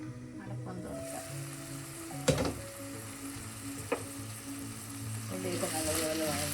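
Onions sauté in a pan for a Kerala-style crab curry, giving a soft, steady sizzle with occasional clinks of a spoon or lid. The sound stays fairly quiet and close.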